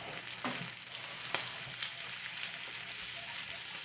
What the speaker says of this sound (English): We crack it right into the pan and mix it around